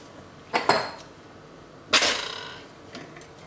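A spoon knocks and scrapes against a cooking pot while a pork dish is stirred, giving two sharp metallic clinks with short ringing tails and a fainter tap near the end, close and without talk.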